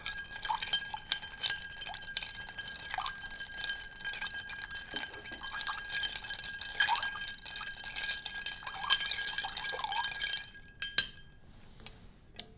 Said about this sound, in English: And then you just give it a good stir.